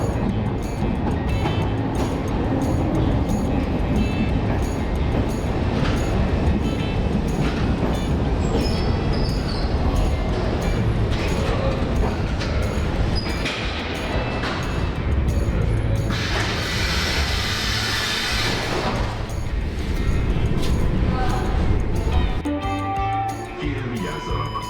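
A Budapest M1 metro train runs down the line with a loud continuous rumble of wheels and car noise, rattling throughout, with a brighter squealing stretch partway through.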